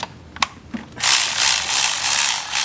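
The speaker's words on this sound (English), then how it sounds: "So we're gonna remove these bolts right here." A ratchet wrench clicks rapidly in a steady run while bolts come off a fuel pump bracket on a BMW 335i F30 with the N55 engine, with a few isolated clicks before the loud, continuous ratcheting.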